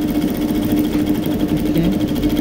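A sewing machine stitches a beaded backless kimono jacket, its steady fast mechanical hum running continuously and fairly loud, with no talking.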